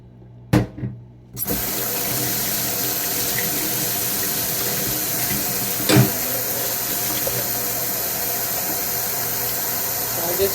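Running water from a kitchen tap splashes steadily as an item is rinsed beneath it during peach marmalade preparation, starting after a couple of short knocks and continuing loud and close with one sharp clatter midway.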